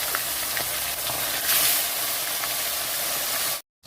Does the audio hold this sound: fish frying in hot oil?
yes